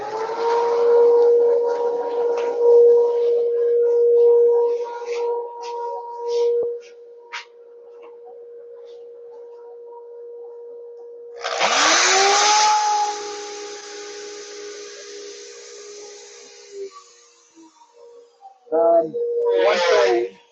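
A wood router running on a slab flattening sled gives a loud steady whine that holds at one pitch, drops away, then returns, with a burst of rougher cutting noise partway through and a brief rise at the end.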